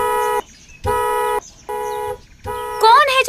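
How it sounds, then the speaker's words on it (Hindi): A car horn blares in loud, repeated blasts, four long honks separated by short gaps, the last one wavering under a raised voice, amid a tense zombie action scene. "कौन है जो इतनी तेज हॉर्न बजा रहा है?"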